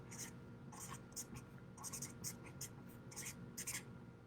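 Pen scratching out words by hand on a paper map for a crafted town, in quick soft bursts of strokes with short pauses, close and quiet.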